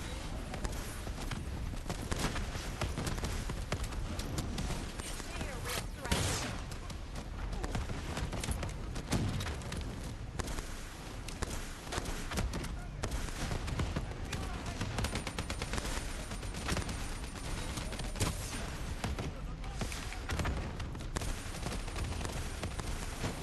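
Dense, continuous gunfire from Call of Duty: Black Ops III fills the whole stretch, rapid automatic bursts and shots layered over game ambience, loud and unrelenting throughout.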